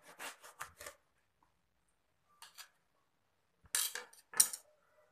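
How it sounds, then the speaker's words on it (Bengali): Knife slicing a round brinjal on a board into pieces, short crisp cutting bursts in two clusters with quiet gaps, close and clear. "বেগুনটাকে ঠিক আমি এইরকম সাইজ করে কেটে নেব।"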